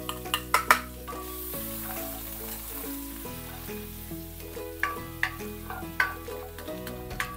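A whole head of garlic sautéing in a pan for a Kapampangan bistek dish: a steady sizzle under loud background music, with a cluster of sharp utensil taps against the pan near the start and more scraping clinks later.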